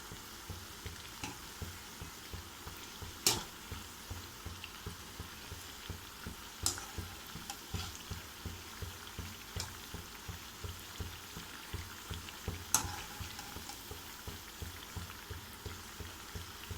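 Raw banana (aratikaya) bajji fry in hot oil with a steady, close crackling sizzle and scattered sharper pops throughout, with no talking.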